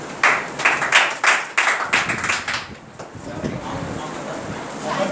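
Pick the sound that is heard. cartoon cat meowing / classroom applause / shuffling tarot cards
classroom applause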